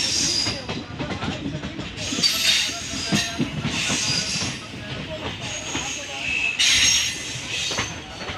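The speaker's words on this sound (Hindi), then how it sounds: "ट्रेन अब चल रही है बाराबंकी जंक्शन की दिशा में" A train running along the Barabanki–Ayodhya railway line near a level crossing where track-doubling work is under way, giving a steady rumble with wheel hiss and squeal that swells at moments, heard fairly close throughout.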